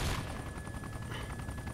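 A vehicle gunner fires at an APC in the military video game Arma II, a rapid, evenly paced stream of gunfire that runs steadily without a break.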